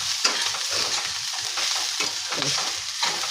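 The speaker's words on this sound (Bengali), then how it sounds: "সব রকম সবজি কেটে নিয়ে গাজর শিম ফুলকপি আলু দিয়ে একটা ভাজা ভাজা করছি" Carrots, beans, cauliflower and potatoes frying together in a pan for a breakfast vegetable dish, a steady close sizzle with repeated scraping stir strokes throughout.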